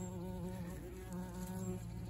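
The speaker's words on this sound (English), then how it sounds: "Beautiful wasp nest just in there." Dense, continuous buzzing of many wasps swarming around their nest inside a tree, close and steady throughout with no talking.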